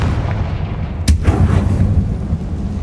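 Confringo fire spell cast in Hogwarts Legacy, one sharp explosive blast landing partway through that gives way to a deep rumbling boom over a steady low game background.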